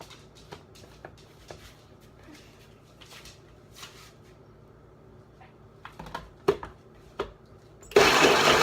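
After scattered clicks and small knocks, a blender roars on abruptly to chop dates for a pumpkin pie crust, loud and close, lasting less than a second before the clip ends.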